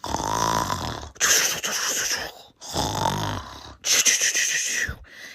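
A voice imitates loud snoring: four rasping, drawn-out breaths alternate inhale and exhale in a slow, steady rhythm, close and harsh.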